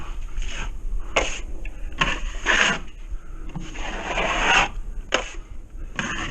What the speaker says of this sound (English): I just like to have a nice high-quality 12-inch knife. I'm doing a tight skim coat.